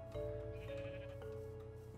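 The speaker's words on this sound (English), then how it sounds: "Let's go get the sheep." Sheep bleating in the Minecraft video game, a repeated nasal bleat rising over a steady low game drone, close and fairly loud with no talk.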